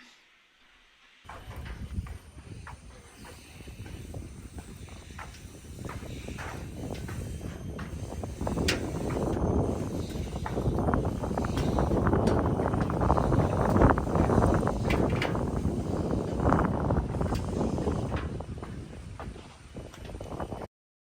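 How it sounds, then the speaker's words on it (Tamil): Strong wind on a forest trail in Singapore, a broad rushing roar that buffets the microphone and builds to a sustained gusting peak midway before easing, with no talk. "அந்த அளவுக்கு காற்று காற்று எப்படி அடிச்சிச்சு பாருங்கள்"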